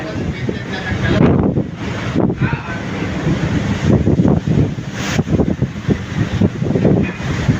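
Large ocean waves breaking and surging in broad, rolling bursts, loud and close with heavy wind rumble over the microphone.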